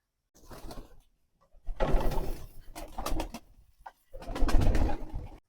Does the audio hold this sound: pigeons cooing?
yes